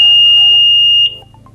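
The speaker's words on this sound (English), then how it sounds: "So the buzzer will keep buzzing for particular seconds." A doorbell buzzer sounding one loud, steady electronic tone for about a second over a low hum, then cutting off into a few faint chirps.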